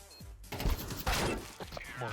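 Sniper rifle shots in Counter-Strike, two sharp loud cracks about half a second apart with brief reverberant tails, mixed with game sounds and a voice talking underneath.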